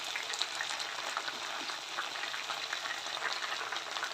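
Boneless chicken kondattam fries in a pan with a continuous, close crackling sizzle of hot oil, steady and fairly soft, with no voices over it.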